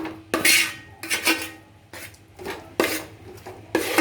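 Jackfruit payasam being stirred in a metal pot, with repeated close scraping strokes of a spoon against the pot, about six sweeps in a loose, even rhythm.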